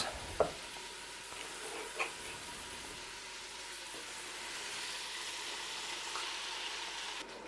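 Canned tomatoes tipped into a pot of softened vegetables with oregano, giving a steady sizzle and stirring hiss with a couple of soft clunks near the start, close and moderately quiet, with no one talking.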